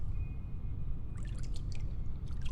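Water in a shark video game, a low steady wash under bright splashy pouring and dripping bursts that start partway through and repeat irregularly, close and fairly loud, no voices.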